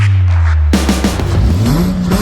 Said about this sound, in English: Those were his flat six swapped Subaru noises.